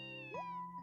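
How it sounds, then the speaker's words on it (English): A cat in The Legend of Heroes: Trails from Zero gives a single short, rising meow over a steady background tone, close and clear. "A cat?"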